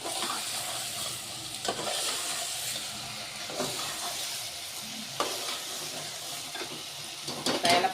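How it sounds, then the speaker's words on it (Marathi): Brinjal simmering in a green chilli masala in a pan gives a steady close sizzle and hiss, broken by a few louder scraping stirs, with no talking. "हे वांगे आता पाच मिनटं या मसाल्यामध्येच आपल्याला होऊ द्यायचे आहे याला छान मसाल्यामध्ये छान मिळून घ्यायचे"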